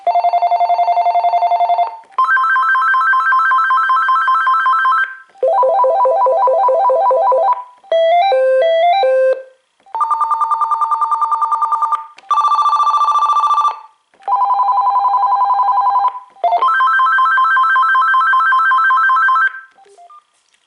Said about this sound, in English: I'm going to show you the ringtones.